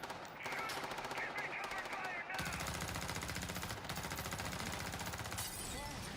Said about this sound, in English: the sound of the guns are crazy good